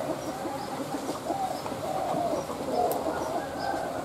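Pigeons kept in a loft coo in a steady, moderately close murmur of overlapping low calls, with faint chirps now and then over a continuous background hum.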